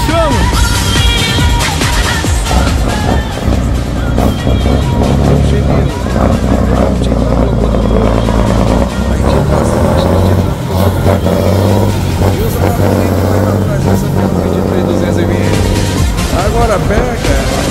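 A loud vehicle engine drones and revs as it pulls out of a busy truck stop during the potato harvest. The rumble is continuous and close, with people talking over it throughout.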